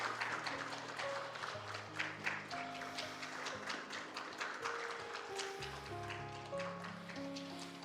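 A church congregation at a Sunday worship service claps in encouragement, a soft, fairly distant patter of hands under sustained organ or keyboard chords.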